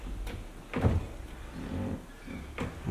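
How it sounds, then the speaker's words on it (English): A Bosch Serie 6 dishwasher door with a damaged corner is lowered open, giving a few dull clunks and a soft scraping rattle, close and fairly quiet. "when the door comes down"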